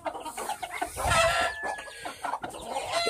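Chickens cluck and squawk at feeding time, several birds calling in quick, overlapping bursts nearby, with no voices.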